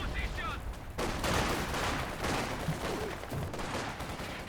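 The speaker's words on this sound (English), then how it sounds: "What is this barrage action?" Artillery barrage in a Company of Heroes 2 match, a 2v2 battle with Soviet and German forces: dense, continuous rumbling explosions and gunfire, loud and sustained with a sharp burst near the start.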